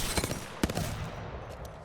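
Hemlock burst rifle firing in the Apex Legends video game, short clustered bursts of sharp gunfire, moderately loud, fading into a quieter tail.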